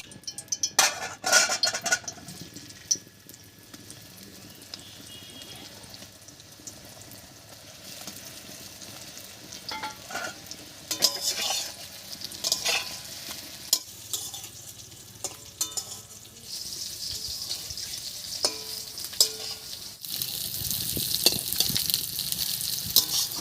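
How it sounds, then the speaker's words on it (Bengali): Lentil cakes (dhoka) frying in hot mustard oil in a wok on a stove, a steady close sizzle broken by scraping, stirring and the clink of a metal utensil against the pan. "এবারে ধোকাগুলো হালকা করে ভেজে নিয়ে"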